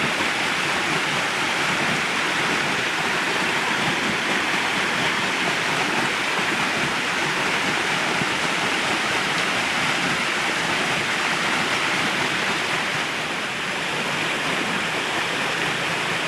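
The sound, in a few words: water flow increased to test a generator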